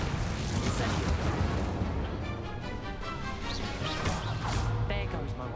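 A Confringo fire spell blast in the video game Hogwarts Legacy: continuous loud, crackling blasts and crashing booms, with a voice mixed in.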